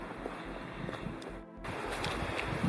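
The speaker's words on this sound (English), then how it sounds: "Except for the wind today. Oh my God, it's cold and it's windy." Cold wind gusts across a Smoky Mountains backpacking trail, a continuous rough rumble buffeting the microphone, briefly dropping out mid-way before surging back a little stronger.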